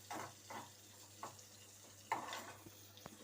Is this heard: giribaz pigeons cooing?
no